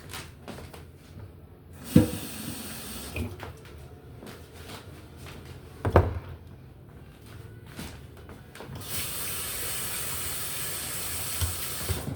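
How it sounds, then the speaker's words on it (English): A kitchen tap starts running near the end, a steady hissing stream of water after a few clunks and handling sounds. "now I'm gonna get some water real quick."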